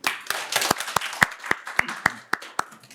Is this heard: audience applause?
yes